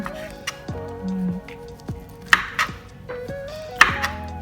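Knife cutting a navel orange, a series of soft, separate chopping and squishing strokes spaced irregularly, fairly close and clear with no talk over them.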